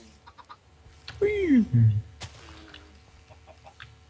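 A chicken in a video game gives a single loud, close squawking cluck with a falling pitch, set against a quiet background with faint sounds before and after; a voice briefly speaks.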